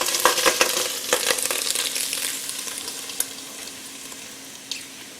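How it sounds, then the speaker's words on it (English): Sausage sizzles and crackles in a frying pan for jambalaya, a loud, close, steady hiss with sharp pops and a few utensil clicks, fading slightly toward the end. "You can see the sizzle."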